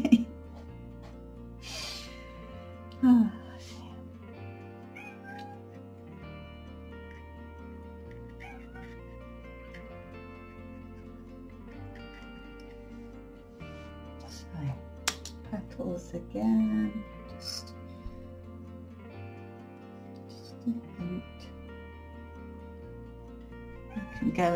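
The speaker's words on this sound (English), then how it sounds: "I'm trying to ignore the cats." Cats meow now and then indoors during a watercolour daffodil painting session, brief faint calls spread across a long stretch with talk in between.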